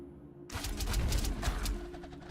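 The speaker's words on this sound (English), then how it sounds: "Those little noises you just heard are called wisps." Small attack sounds from wisps in the strategy video game GemCraft 2, a burst of soft, fluttery, airy chirps starting suddenly and continuing steadily at moderate level, with no talking.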